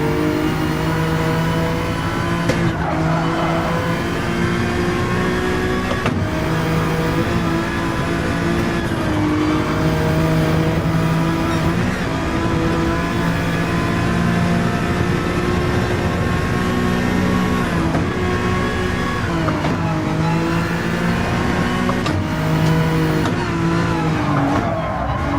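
A Honda race car engine in Gran Turismo 7 drones loud and steady from onboard, its tone rising and falling through gear changes and revs. Brief skid noises and downshift shifts break in now and then, with no talking.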